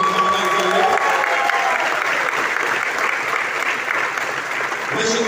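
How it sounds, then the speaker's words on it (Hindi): Audience applauding loudly and steadily at a stage event in Raipur, a dense wash of clapping held for the whole stretch with faint crowd noise beneath. "एक जोरदार ताली बजाएं इनके लिए।"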